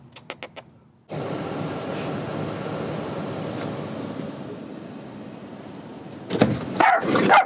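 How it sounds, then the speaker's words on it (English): A guard dog barks in a short burst of close yips at the start. A long steady broadband rush of wind or traffic follows, then louder mixed noises near the end. "There's the guard dog."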